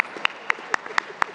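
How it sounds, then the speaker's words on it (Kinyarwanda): Sharp, evenly spaced handclaps ring out in a short, sparse burst from an audience at a media interview with a government deputy spokesperson, each clap distinct rather than blended into a roar. "mwakabimpereye amashyi"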